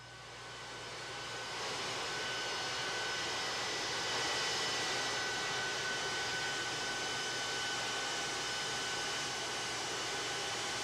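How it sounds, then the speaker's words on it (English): A plane on the ground taxiing into a hangar at Ellington after landing gives a continuous, distant jet-engine whine and roar, with a steady tonal hum that builds over the first two seconds and then holds evenly, faint and unaccompanied by voices. "the plane now on the ground pulling into the hangar out there at Ellington"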